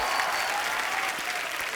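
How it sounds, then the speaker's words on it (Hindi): A television comedy show's studio audience applauds loudly and continuously, a dense wash of clapping welcoming a guest onto the stage. "आप सबकी जोरदार तालियों के बीच प्लीज वेलकम"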